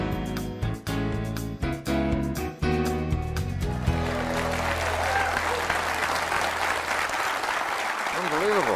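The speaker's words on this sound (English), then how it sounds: "Appreciate that fabulous welcome and all that applause and your respect." A seminar audience gives a long, loud round of applause and cheering to welcome a speaker, with music playing at first before the clapping takes over.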